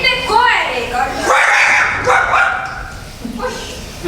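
Dogs bark and yelp loudly in an Estonian radio drama of the Odyssey, a dense, agitated run of barks and whimpers, with voices mixed in throughout.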